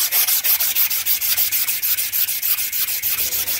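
A brake pin on a Suzuki KingQuad is lightly sanded by hand with P400 grit paper, giving quick rhythmic rasping strokes, about five or six per second, close and steady with no talking.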